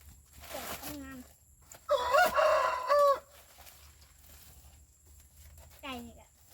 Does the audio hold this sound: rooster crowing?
yes